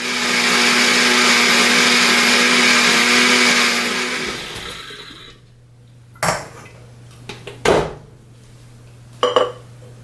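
A countertop blender whirs loudly, blending a pumpkin pie smoothie with honey for about four seconds, then winds down, followed by a few sharp clinks and clatters of the jar and lid.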